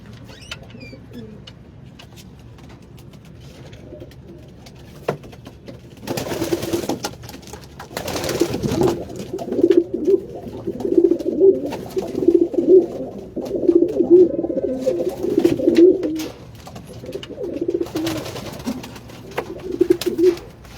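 Pigeons feeding on peanuts coo repeatedly in soft, low rhythmic phrases, close by, with clusters of calls over about fourteen seconds after a quieter start, plus a few brief rustling thumps.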